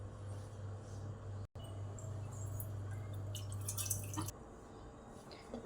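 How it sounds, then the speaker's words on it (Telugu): Fish pulusu curry simmering in a pot gives faint, sparse bubbling pops and drips over a steady low hum that stops near the end, with no one speaking. "ఇప్పుడు ఇది మంచిగా మసలాలి."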